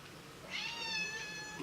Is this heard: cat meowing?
yes